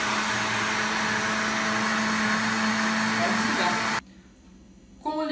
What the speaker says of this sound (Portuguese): Feche a tampa e ligue o liquidificador novamente.